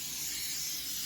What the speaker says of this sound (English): I'm going to spray my griddle.